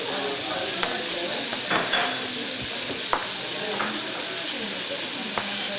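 Fennel caramelizing in a hot pan gives a steady, even sizzle and hiss, with a few faint clicks of stirring and soft distant voices during a cooking class.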